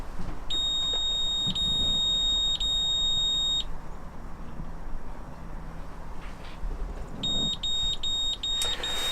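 High electronic alarm beeps from an AIS man overboard beacon, in repeated bursts, a steady pulsing tone that stops and then resumes, over a low background hum.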